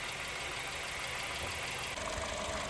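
Honda City i-VTEC car engine idling during a service, a steady mid-pitched hum with a faint knocking vibration running evenly throughout, fairly close and unbroken.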